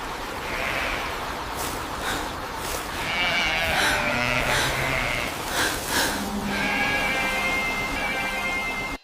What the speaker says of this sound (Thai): ที่นั่นมีฝูงแกะขนทองคำแสนดุร้ายกำลังเล็มหญ้า